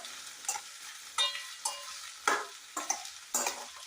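Okra and slit green chillies fry in oil, making a steady close sizzle broken by about six sharp scraping stirs spaced through the clip, with no voices.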